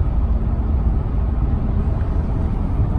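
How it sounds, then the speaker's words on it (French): A 1994 Bentley heard from inside while driving, giving a steady airy whoosh over a low road rumble that holds even and continuous throughout, with no talking. "vous avez une espèce de souffle au niveau du son de la voiture"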